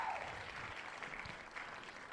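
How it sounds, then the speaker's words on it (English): A crowd claps in a steady, even patter for a couple of seconds, fairly quiet and distant, with a brief cheer-like woo rising faintly in the middle. "I love the little woo in the middle of that clapping thing."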